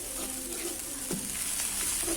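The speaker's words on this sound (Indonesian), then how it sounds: "Saat menggoreng bumbu ini, kita aduk-aduk terus ya teman-teman." Ground spice paste for catfish pecel sizzles steadily in hot oil while being stirred, with a continuous crackling hiss and occasional soft scrapes of a utensil in the pan.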